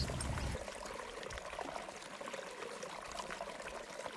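Water of a creek in the Sullivans catchment trickles and flows steadily, a soft, close babble with a louder rush at the very start that quickly settles into a gentle continuous stream.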